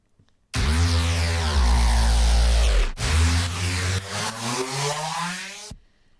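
A loud, gritty detuned Reese synth bass from a drum and bass bootleg drones and bends in pitch, dipping and sliding upward in sweeping glides before cutting off abruptly.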